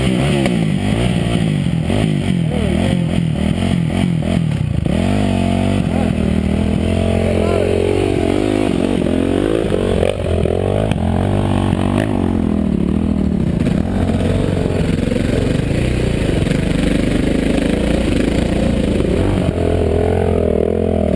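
A dirt bike engine on a rocky hill trail fires up after a hot start and revs continuously, loud and close, with rising and falling throttle sweeps and some clattering over the whole stretch.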